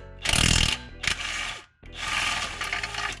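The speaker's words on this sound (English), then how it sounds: "we're gonna go over there and undo the PPF bolts" A power tool rattles loose the PPF bolts on a Miata differential in a few loud, close ratcheting bursts of mechanical buzzing, separated by brief pauses.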